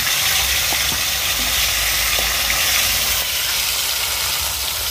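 Food frying in oil over an outdoor clay stove, a steady broadband sizzle and hiss holding at an even level for the whole stretch, with a low rumbling roar from the fire beneath and no talk.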